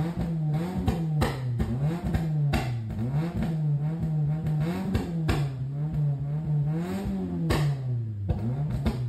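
A tuned car engine with a standalone ECU revs repeatedly, each rise ending in sharp exhaust pops and bangs crackling in quick, loud bursts.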